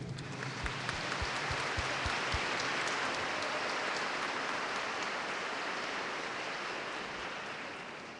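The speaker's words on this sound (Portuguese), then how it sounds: "Então, a todos uma salva de palmas" Sustained applause from a congregation at a Catholic novena Mass for the Divino Espírito Santo, a dense steady wash of clapping filling the church for about eight seconds and tapering slightly at the end.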